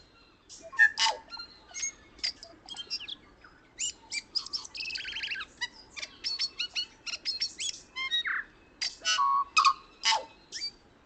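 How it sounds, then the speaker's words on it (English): Recorded birdsong plays alone: a quick series of bright chirps, trills and whistled notes in clustered bursts with short pauses between them, clear and close against a quiet background. "So here's the original bird song"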